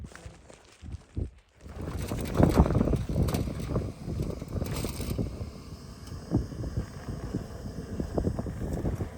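Wind gusts buffet the microphone at a desert campsite along the Arizona Trail near sunset, with low rumbling blasts that swell and fade irregularly, close and fairly loud, no talk.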